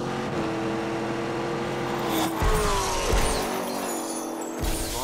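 A supercharged Corvette Z06 engine roars through a launch-control start, rising and shifting pitch over a few seconds, loud and close with some tire noise.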